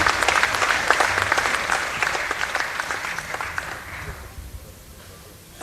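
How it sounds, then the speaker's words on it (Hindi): An audience applauds in welcome of Tai ji at a political gathering in Madhya Pradesh, steady dense clapping that fades out near the end. "एक बार तालियां बजा के ताई जी का स्वागत और अभिनंदन"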